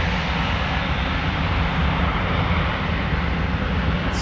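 A Boeing 737 jet departing Amsterdam Schiphol Airport gives off a continuous, loud, broadband engine roar that holds steady throughout, with no voices.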